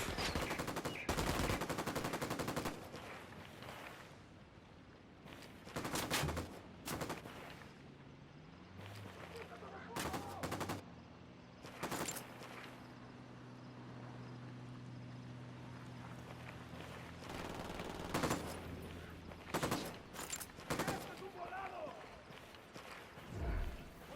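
Gunfire in the video game Ghost Recon Wildlands comes as repeated sharp bursts of rifle and automatic fire, some near and loud, with pauses between volleys and voices speaking over the fighting.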